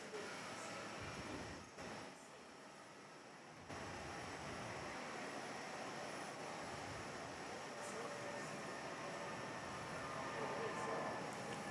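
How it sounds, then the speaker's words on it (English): Distant, steady roar of an Airbus A320 rolling for takeoff at Perth Airport, a broad continuous rumble that holds and slowly swells over about twelve seconds. "Netlink on the roll for now with the 320."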